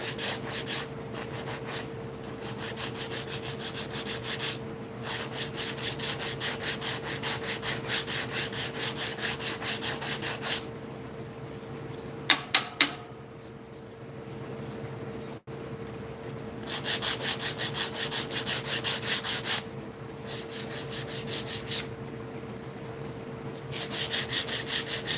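Hand sanding of wood with rough-grit sandpaper, steady scratchy rubbing strokes running almost continuously at close range, with a few brief pauses between passes and no talking.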